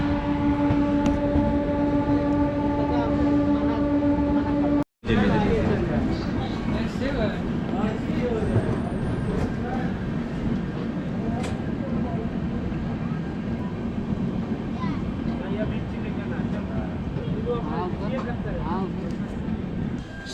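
The Poorva Express passenger train (12304) rolls along after leaving New Delhi: a steady, loud rumble and rattle of wheels and carriages with a sustained horn-like tone at the start, then continuous clattering running noise throughout, with a voice heard over it.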